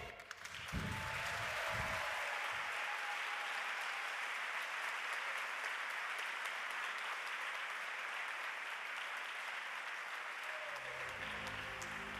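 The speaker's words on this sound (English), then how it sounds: "On les applaudit." Large audience applauding a gospel choir at a hospitality awards ceremony; after a few low thumps, dense sustained clapping fills the hall, with faint music creeping back in near the end.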